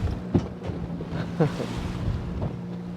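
Strong wind buffets the microphone aboard a fishing boat rolling at sea, a low continuous rumble with gusty swells and faint creaks from the deck.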